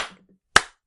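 A single sharp hand clap rings out close and loud, following a brief faint murmur at the start and then fading into silence.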